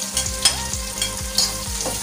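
Onions and red chilies being stir-fried in a pan for oyster-sauce shrimp, with a bright sizzle broken by rhythmic scrapes of a spatula about every half second, close up and with no voices.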